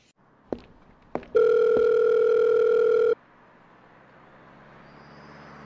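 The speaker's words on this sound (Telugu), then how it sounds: "ఫోన్ ఎత్త అమృత." A telephone rings loudly in a single steady tone burst of about two seconds, following two sharp clicks, then cuts off to quiet room hum.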